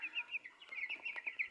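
Broiler chicken clucking close by, a quick run of soft, repeated clucks and chirps over about a second and a half, faint and alone.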